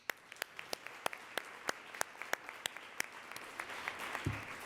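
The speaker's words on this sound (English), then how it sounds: "Let's give a big round of applause." Audience applause at a forum on Gen Z girls in Central Ohio, heard as sparse, fairly quiet claps from a smallish crowd, with a brief low thump near the end.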